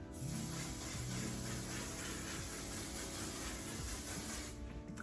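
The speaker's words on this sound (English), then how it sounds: "Now I'm gonna set using the One Size mattifying setting spray." One Size mattifying setting spray misted continuously for about five seconds, a steady soft hiss, fairly quiet and close, with no voices.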